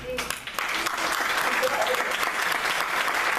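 Audience applause at a round-table forum on the 2030 Agenda, clapping that swells in after a brief moment of voices and then holds steady and full to the end.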